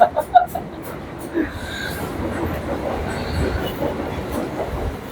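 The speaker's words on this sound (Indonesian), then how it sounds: "Setiap gua ngomong ada kereta lewat." A passing train rumbles and clatters steadily at moderate distance, with a few brief knocks at the start and faint speech-like sounds mixed in.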